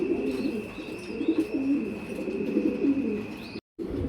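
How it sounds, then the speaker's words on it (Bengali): A pair of American Modena pigeons coo in soft, repeated low rolling calls close by, over a faint steady hum, with a brief dropout near the end. "এখানে রয়েছে একজোড়া হাই কোয়ালিটির হাই একদম হাই কোয়ালিটির মডানা আমেরিকান মডানা"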